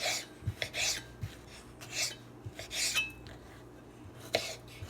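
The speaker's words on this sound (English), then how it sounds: "I'm gonna continue chopping the rest of the veggies except the tomato" A knife chops vegetables into small cubes on a cutting board for eggplant caviar spread, giving irregular crisp taps and scraping slices, moderately close, with no talk.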